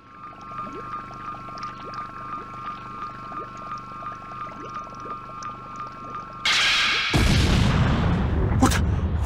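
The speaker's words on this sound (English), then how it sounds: "What was that explosion just now?" An explosion erupts during a Dragon Ball Z anime fight between Vegeta and Frieza: a steady low hum gives way to a sudden loud, broadband blast that rumbles heavily to the end.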